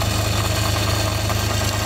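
A restored Myford ML7 lathe runs steadily with a constant low mechanical hum and faint rhythmic ticking, throwing oil off its bearing, close and even throughout.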